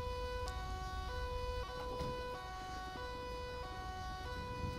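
Ambulance siren in the GTA 5 video game, a steady electronic tone that switches between pitches, fairly faint over a constant low traffic rumble, with no speech.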